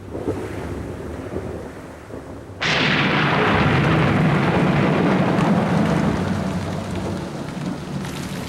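Thunderstorm arriving over parched grasslands: low rumbling at first, then a sudden surge of heavy rain that holds steady and loud, with thunder rolling underneath and no voices.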